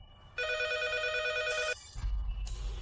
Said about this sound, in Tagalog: Ang telepono mo ay malapit na ring tumawag.